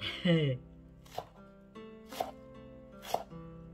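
Chives being cut by hand from a flower pot: three crisp, separate snips spaced about a second apart, close and fairly quiet, after a brief voice at the start.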